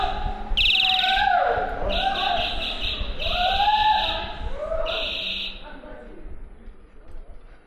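A person on a trail imitates birds with a rising and falling series of whistled chirps and warbles, close and loud, against a constant high electronic tone that switches on and off in blocks.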